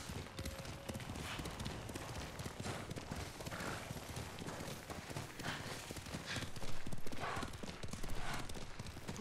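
Galloping horse hooves in Ghost of Tsushima: steady rapid clip-clop of a black horse ridden through feudal Japan, continuous and fairly close, with a slight surge toward the end.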